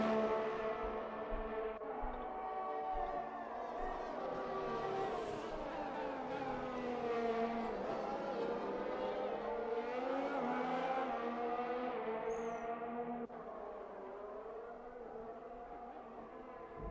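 An Alfa Romeo race car engine in a racing game screams steadily at high revs around a French Grand Prix lap, pitch rising and falling through gear changes and corners, loud and continuous.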